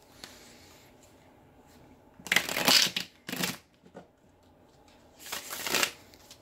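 Tarot cards shuffled and riffled in bursts, with a long flurry followed by a shorter one, a pause, then another strong shuffle; close and crisp with soft handling between.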